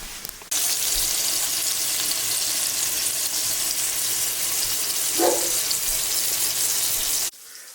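Chicken pieces sizzle in a hot frying pan, a loud, steady hiss of frying that starts suddenly and runs continuously before cutting off, with a brief clatter partway through.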